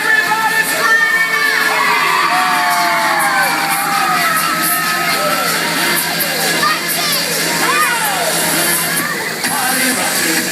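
A large crowd of children screams and cheers continuously at a hotel pool party, loud and dense, with shouts and whoops rising over music.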